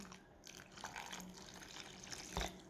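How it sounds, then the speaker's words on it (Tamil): Plain water trickles and splashes softly into a thattai vada dough mixture, quiet and close, with faint wet mixing sounds. "இப்போ தண்ணி விட போகிறேன் தண்ணி விட்டு குழைக்க வேணும்"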